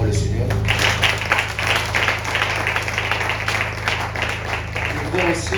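A church congregation applauding: steady, dense clapping from many hands across the hall, with voices calling out and talking through it under a low hum.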